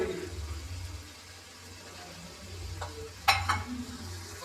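Curry leaves and onions fry in hot oil in a pan for potato bonda, giving a faint, steady sizzle with a few brief stirring clinks.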